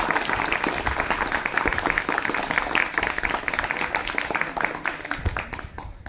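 Students at a school event clap together in a dense, steady round of applause that stays close and even, then thins slightly toward the end.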